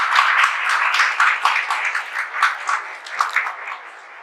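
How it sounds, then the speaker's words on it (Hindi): Steady applause from a seated audience at a motivational talk for a sub-inspector named Kavita, dense overlapping claps sustained at an even level throughout without a voice over them. "कविता के लिए एक बार फिर से तालियां बजाएंगे"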